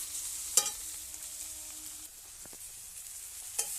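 Tomato and spice masala fries in oil in a pan while being stirred, a soft steady sizzle with a couple of brief scraping stirs, faint and close.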